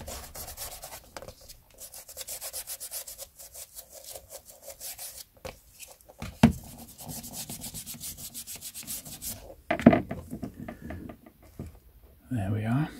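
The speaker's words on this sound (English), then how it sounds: "there's a mark along the top there which will benefit from a bit of polish" A cloth rubs repeatedly against a collectible item being polished, producing soft rhythmic close-up swishing strokes broken by a few brief knocks and pauses.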